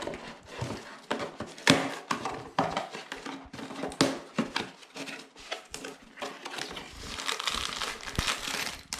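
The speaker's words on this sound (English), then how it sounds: "So now we're gonna open up our toilet roll holder packaging and see what's inside." Plastic packaging of a toilet roll holder being torn open and handled, a steady run of close, loud crinkling and crumpling with sharp rustles throughout and no talking.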